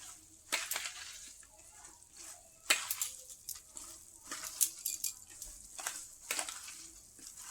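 Soaked puffed rice being mashed by hand makes soft, wet squishing and crackling bursts at an irregular rhythm. The sound is close but faint, and no one speaks.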